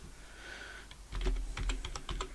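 Computer keyboard keys clatter in quick bursts while typing a web address, close and fairly loud after a quieter start, with no one talking.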